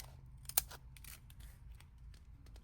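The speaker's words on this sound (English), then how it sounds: "take my scallop scissors and I'm going to find where the plastic is and make sure I don't cut that" Scallop-edged craft scissors cut across a plastic candy wrapper, giving a few crisp snips and crinkles up close, faint and quiet over a low background hum.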